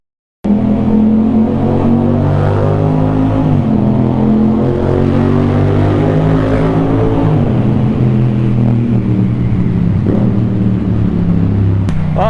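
Yamaha MT-07 motorcycle engine rumbling loud and close inside a traffic tunnel, with a continuous throaty drone and shifting revs that echo off the walls.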